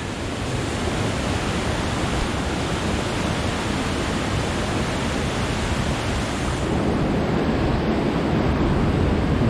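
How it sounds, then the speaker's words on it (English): A small waterfall in a dry desert gorge pours with a constant, dense, close rushing hiss, unbroken for the whole stretch. "Look at this little waterfall."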